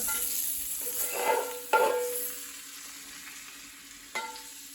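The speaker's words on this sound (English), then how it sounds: "Let's take our brown butter." Brown butter sizzles as it is poured over plated food, a steady frying hiss with a few sharp spoon clinks, close up with no talk.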